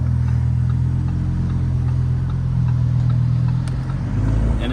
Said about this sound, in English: there's just this crazy Lamborghini driving around